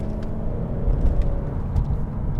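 Low, steady engine rumble from a 1999 Mercedes-Benz S-Class (W220), heard close and continuous with a slight swell in loudness midway, no talk over it.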